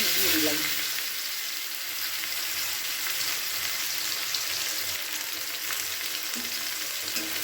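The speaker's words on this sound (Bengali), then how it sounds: "পেঁয়াজটাকে খুব লাল করে ভেজে নেব পেঁয়াজটাকে ভাজতে দিয়ে দিলাম" Chopped onions fry in hot oil with black cumin, the oil having just been used for small fish; a close, steady sizzle runs throughout with occasional stirring scrapes and no talking.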